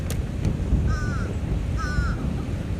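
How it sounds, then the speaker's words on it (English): Crows cawing outdoors, two clear harsh caw calls about a second apart over steady background noise, fairly near, with no talk. "it's a lot of birds"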